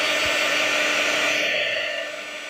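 A hair dryer blows steadily at close range while drying a watercolor painting, a loud, continuous airy whoosh that eases off slightly toward the end, with no talking.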